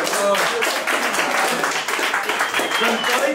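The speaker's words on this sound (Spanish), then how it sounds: "Un aplauso para Simon" Applause and clapping from a crowd at a livestreamed event, a dense, steady patter of many hands lasting a few seconds, mixed with overlapping voices and cheering.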